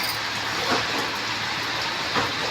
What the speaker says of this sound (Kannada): ಜೋರು ಮಳೆ ಬಂದು ಹೋಗುತ್ತೆ ಮಳೆ ನೋಡಿ ಒಳ್ಳೆ ಮಳೆ ಇದೆ